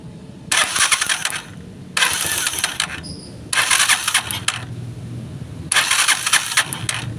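A small engine cranks and catches in four loud bursts of roughly one and a half seconds each, separated by quieter gaps, during testing after ignition coil, ground strap and spark plug work.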